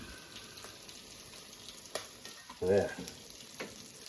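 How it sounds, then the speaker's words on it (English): Scrambled eggs and sausage links fry in a pan with a steady close sizzle, a louder burst of crackling near the middle as food is stirred, and a brief spoken word. "Got some sausage links, and in a minute I'll show you where them links came from. And making up some scrambled eggs."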